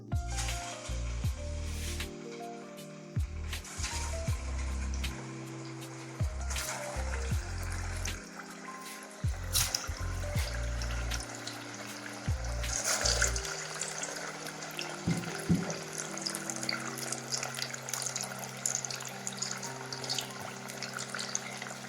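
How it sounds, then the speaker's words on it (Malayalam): Aval vada dropped one by one into hot oil and frying with a continuous bubbling, sizzling hiss, steady and fairly close, with clinks and clatters of utensils scattered throughout. "ഓരോന്നായിട്ട് ഞാൻ ചൂടായ എണ്ണയിലേക്ക് ഇടുന്നു."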